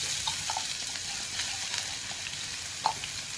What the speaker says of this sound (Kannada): ಫ್ಲೇಮ್ ಕಡಿಮೆ ಮಾಡಿ ಇದು ಫ್ರೈ ಮಾಡ್ಕೊರಿ